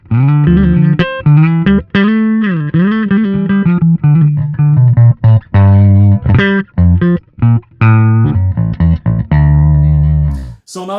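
Epiphone Thunderbird Classic IV Pro bass played with both pickups at full volume: a run of loud, close, sustained and plucked bass notes with rich harmonics, heard alone with no talking.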